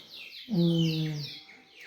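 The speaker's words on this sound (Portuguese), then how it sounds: "ouvir os passarinhos cantando" Outdoor birdsong in a peaceful natural setting: a short bird call with clear repeated chirping notes, fairly close and prominent against a quiet background.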